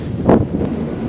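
Strong wind buffets the microphone outdoors, a low rumbling roar with a louder gust swelling near the start, steady and close throughout with no voices.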